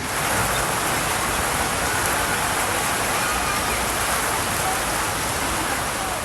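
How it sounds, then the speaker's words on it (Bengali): Rain falls over a city in a sudden spring storm, a dense, even hiss of drops on surfaces that stays loud and unbroken from start to finish. "হঠাৎ করে বৃষ্টি আসলো"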